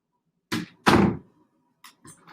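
A house door is opened to let a dog in, giving two loud close thunks followed by a few fainter knocks and rattles, with no talk.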